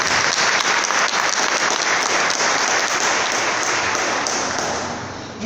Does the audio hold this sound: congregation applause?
yes